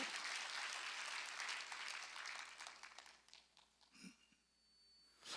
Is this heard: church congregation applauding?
yes